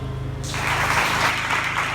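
Church audience applause for a pastor breaks out suddenly after a low hum and builds into a dense, steady wash of clapping from many hands in the hall.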